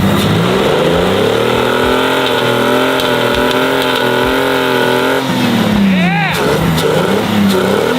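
A Mazda pickup, a rebadged Ford Ranger, revs hard and close with a steady droning engine note that drops off near the end as it pulls away, under a shouted cheer.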